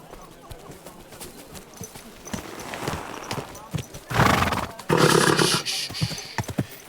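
A horse in the medieval game Kingdom Come Deliverance 2 clip-clops with steady hoof beats, then lets out a loud, close whinny, with speech around the animal sounds.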